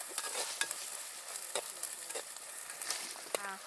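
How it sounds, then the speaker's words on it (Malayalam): Onions and curry leaves frying in a pan for a Kottayam-style fish curry, a steady sizzle broken by a few scraping stirs, close and fairly quiet with no one talking. "ഇനി ഒന്ന് നമുക്ക് ഇത് ഇളക്കി ഉള്ളിയൊക്കെ ഒന്ന് വെന്ത്"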